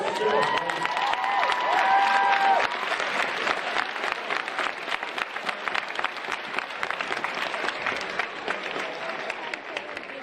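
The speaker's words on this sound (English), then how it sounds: "We're a big round of applause for Cullyhanna." Crowd applause and cheering for a junior Gaelic football club side after a final replay, with dense sustained clapping that tapers gradually across the clip and a few shouts rising over it at the start.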